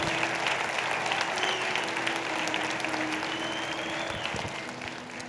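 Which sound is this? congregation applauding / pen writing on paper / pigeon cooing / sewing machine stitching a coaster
congregation applauding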